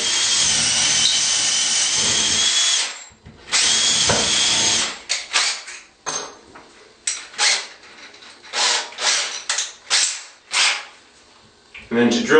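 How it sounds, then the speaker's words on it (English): A power drill bores a pilot hole into an onyx panel, a long high grinding whine followed by many short bursts as the trigger is pulsed repeatedly. "So we'll start with the pilot drill."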